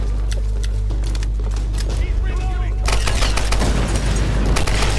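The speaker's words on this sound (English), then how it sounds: "we've just got a machine gun and it's very evident they want you to use it here, so just mow them down" Sustained machine gun fire in Tomb Raider, loud rapid bursts that swell into a dense barrage, with someone talking over the shooting.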